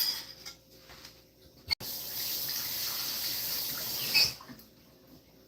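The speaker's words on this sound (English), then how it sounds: "I like to rinse my bowl." A bowl is rinsed under a running kitchen tap, a steady close rush of water lasting a few seconds with a soft start and a brief splash near the end.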